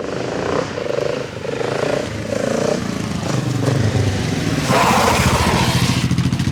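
A GasGas 700 motorcycle roars close by while riding a wheelie, its engine note steady and loud with a rising, revving push near the end, with no talking over it.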